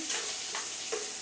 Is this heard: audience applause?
no